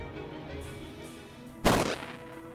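A single explosion in the game Bastard Bonds bursts out loud and broadband partway through, then fades over a fraction of a second, rising over a steady low background.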